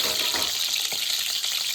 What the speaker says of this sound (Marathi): पहिली अंडी अशी थोडी तेलावर भाजून घेते आई